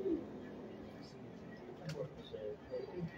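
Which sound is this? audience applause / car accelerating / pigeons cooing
pigeons cooing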